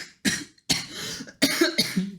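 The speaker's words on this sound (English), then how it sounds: "You're gonna make me cough again." Several hard coughs burst out in quick succession from a person at an improv storytelling session, close and loud, separated by short gaps with no talking.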